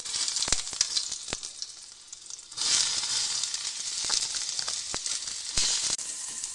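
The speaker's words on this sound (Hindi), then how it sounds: "पैन गर्म हो चुका है, इसमें डालिए प्याज।" Chopped onions fry in hot refined oil in a heated pan, giving a loud, steady sizzle with brief sharp crackles and pops, alone and without speech.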